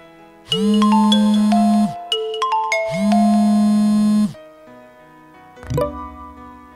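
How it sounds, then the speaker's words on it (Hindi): A mobile phone ringtone plays loud, bright electronic tones in two long ringing bursts separated by a short gap, then a brief chime follows before silence. "किसका फोन था? पता नहीं, कोई नया नंबर है, मिस्ड कॉल की है।"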